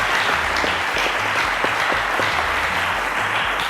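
A studio audience at the Cowbellpedia quiz show applauds a contestant, a dense, steady roar of many clapping hands filling the room alone, without pause.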